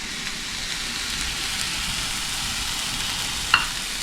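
Flour stirred into a roux sizzles in a pan while making a Cajun cream sauce, a steady soft hiss with a small clink near the end, no voices.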